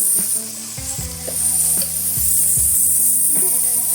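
A ground paste of shallots, onions, green chilies and curry leaves goes into hot oil with ginger and garlic for green duck curry, bursting into loud, steady sizzling with a few clinks and scrapes of a utensil.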